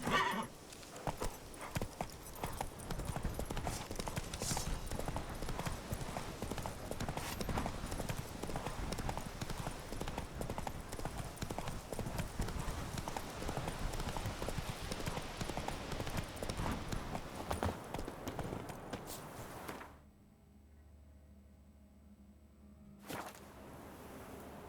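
A horse in The Witcher 3 gallops with fast rhythmic hoofbeats and neighs, close and loud for about twenty seconds before cutting to near silence, with a brief later burst.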